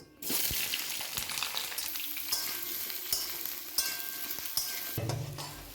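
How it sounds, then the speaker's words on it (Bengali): Potatoes frying in hot oil seasoned with cardamom and bay leaf, a loud close sizzle with repeated spatula scrapes and taps against the pan, ending with a brief lower rumble. "আলুটা ভেজে তুলে নেব।"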